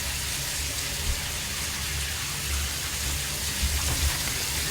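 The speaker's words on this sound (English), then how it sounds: "So that's the hot water going." Hot water running from a shower tap, a steady broadband hiss of spraying water that holds at an even, close level throughout with no one speaking.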